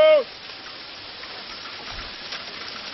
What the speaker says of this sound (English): Hail is coming down!